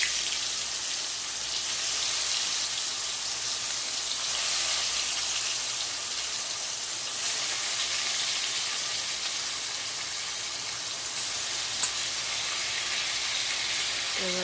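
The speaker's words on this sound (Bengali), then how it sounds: "তেলটা গরম হয়ে গেছে, একটা একটা করে মাছ এবার দিয়ে দেব।" Fish frying in hot oil in a home kitchen, a steady broadband sizzle and hiss running unbroken throughout at moderate loudness, with no talk over it.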